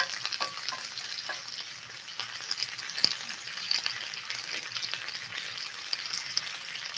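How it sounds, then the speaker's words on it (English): A bright vegetable dish frying in a pan outdoors for grid-down cooking, with a steady, close hiss and crackle of sizzling throughout and no talking. "we're going to let this sizzle here for a minute"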